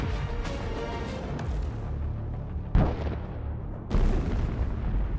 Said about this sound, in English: There is a very strong explosion, and the target is burned to the ground.